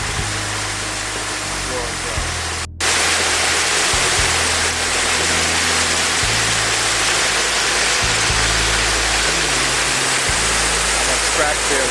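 Steady rushing of a waterfall pouring down a ravine, a constant broadband roar with a low hum running beneath it for the whole span.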